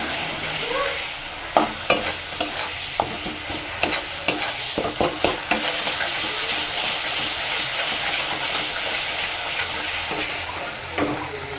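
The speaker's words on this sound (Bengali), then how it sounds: "দেখুন মশলাটা কষাতে কষাতে আমার মশলার তেল ছেড়ে আসছে" Masala for spicy egg curry fries in oil, giving a continuous close sizzle and hiss, with sharp spatula strokes against the pan clustered early and steady frying afterward.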